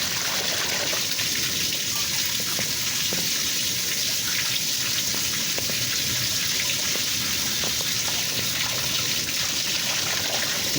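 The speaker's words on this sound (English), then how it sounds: "The drain unclogged." Water drains steadily through a freshly unclogged sink drain, a continuous close gushing and trickling wash that stays even and fairly loud throughout, with no talking.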